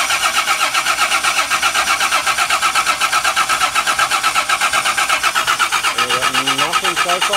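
A car engine cranks over and over in a fast, steady, rhythmic churn while fuel is squirted into the throttle body to test for a failed fuel pump, loud and close, with a faint catch near the end.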